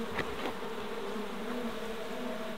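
Bees buzzing steadily around an orange tree during a swarm rescue, a close, continuous drone with a few louder passes near the listener, no talking.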